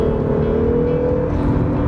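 Acura NSX hybrid supercar accelerating hard, a loud, steady engine drone that holds a rising tone through most of the run before easing off near the end, with no voices.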